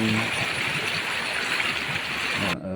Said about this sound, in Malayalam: പക്ഷേ വെള്ളം ഒഴുകുന്നുണ്ട്